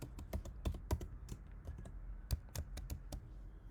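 A password is typed on a computer keyboard: a quick, irregular run of close, crisp key clicks over a few seconds, with no one talking.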